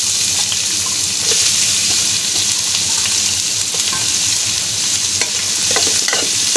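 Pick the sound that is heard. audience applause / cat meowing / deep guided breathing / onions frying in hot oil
onions frying in hot oil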